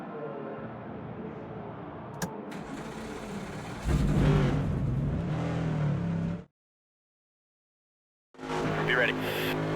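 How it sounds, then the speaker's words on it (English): NASCAR 25 race car engines firing up at North Wilkesboro, starting with a rough idle, then swelling into a loud sustained rev that cuts out abruptly and returns after a gap, while a voice speaks over the engines. "The engines are about to fire off at historic North Wilkesboro."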